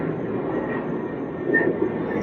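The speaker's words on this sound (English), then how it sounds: "Sorry about that plane. Wow, that's loud." A loud airplane passes overhead with a steady, broad roar that fills the whole clip, swelling slightly toward the middle, with no talk over it.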